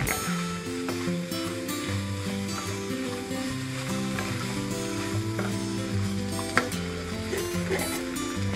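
Chicken with roasted coconut being stirred in a sizzling pan for a fried chicken dish, a light steady sizzle with occasional scraping, partly masked by sustained background music.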